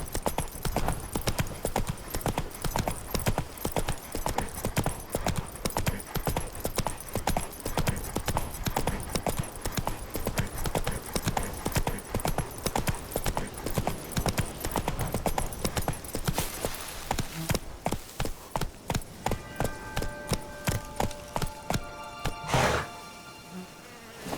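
A horse gallops at a steady pace in The Witcher 3: Blood and Wine, its hooves beating a fast, even clip-clop rhythm that stays loud and close for about seventeen seconds, then slows and gives way to a few tonal game sounds.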